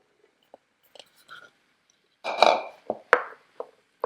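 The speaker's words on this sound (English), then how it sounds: "So we're just going to pour it in all together." Canned beans being poured into a pot with potatoes: a few soft taps, then a wet, sloshing glug and several sharp clinks against the pot, close and fairly quiet, with no talking.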